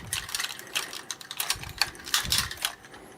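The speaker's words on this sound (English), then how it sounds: "You can hear nice ratcheting joints in there." Ratcheting hip joints of a Yamato 1/12 Scopedog action figure click in quick, close bursts as the leg swings forward and back, a dry plastic clatter of several clustered clicks.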